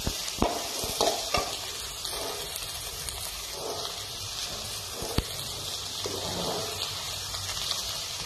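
Onion, chilli and curry leaves sautéing in a pan for banana flower poriyal, a soft steady sizzle broken by sharp clinks and scrapes of a stirring spoon, close and moderately quiet.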